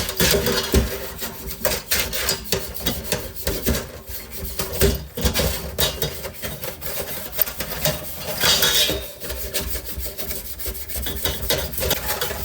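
Steel wool scrubs a drum tom mount in continuous rapid rasping strokes, a close, gritty rubbing with slight metallic scraping and no voices.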